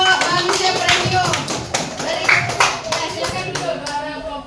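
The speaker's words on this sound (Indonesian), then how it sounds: "Oke, tepuk tangan untuk kelompok manusia premium." Classroom students clapping for a group in an Indonesian school lesson, a lively burst of many hands patting in quick uneven rhythm, loud at first and tapering, with voices mixed in.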